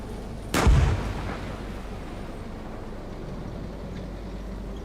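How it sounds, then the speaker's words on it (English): Artillery fire in a tank video game, a single heavy booming blast near the start that rumbles and fades into a steady low background drone. "Ooh, artillery is coming up on us."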